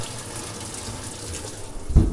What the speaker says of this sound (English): When you turn the machine on, it fills up with water, which is what it's supposed to do.